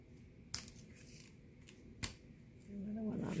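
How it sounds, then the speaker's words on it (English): Paper snips from a crafting project: two sharp, brief scissor cuts, the first near the half-second mark and the second just after two seconds, over a low hum. A voice-like murmur rises near the end. "my scissors"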